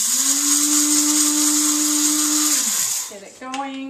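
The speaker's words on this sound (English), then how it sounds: "So I'm going to put a tablespoon of flaxseed into my coffee bean grinder." A coffee bean grinder whirs loudly and steadily while grinding a tablespoon of flaxseed, holding one pitch for about two and a half seconds before spinning down, followed by a brief clatter.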